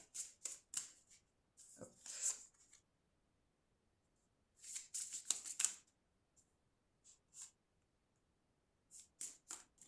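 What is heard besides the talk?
oracle cards being shuffled and drawn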